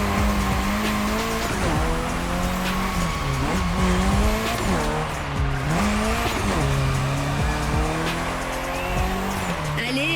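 Video game car drifting through The Crew Motorfest's Made in Japan playlist: a continuous loud engine drone with wavering pitch as the revs swing, overlaid by sustained tire squeal and skidding throughout.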